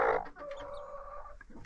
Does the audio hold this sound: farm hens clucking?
yes